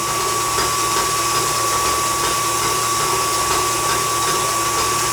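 An electric mixer whipping egg whites with sugar into a soft meringue, giving a loud, constant whirring drone with a steady high tone and faint rhythmic beating, no voices.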